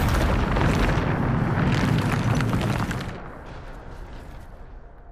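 Bombarda spell explosion in the video game Hogwarts Legacy, a loud booming roar that holds for about three seconds, then fades into a rumbling decay.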